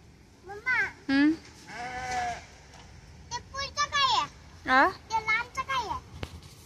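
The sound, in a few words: flock of sheep bleating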